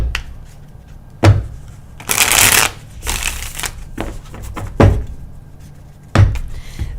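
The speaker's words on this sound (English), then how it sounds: "This deck shuffles well." An indie tarot card deck being shuffled by hand, close up: sharp riffling bursts and card slaps separated by short quiet pauses, with no talking.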